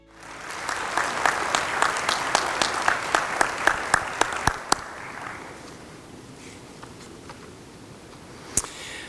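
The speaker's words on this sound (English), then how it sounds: "Please join me in applauding the membership of the Greater Beaumont Chamber of Commerce" Chamber of Commerce members at their annual meeting applaud in a steady, full round with a few distinct sharp claps, fading after about five seconds into quiet room tone with a single late clap.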